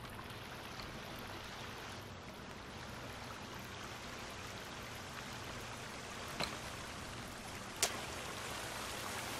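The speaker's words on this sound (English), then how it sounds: "All running water." Water running steadily in the game The Forest, a dense broadband rushing wash held at even loudness, with a couple of faint sharp knocks near the end and no talking.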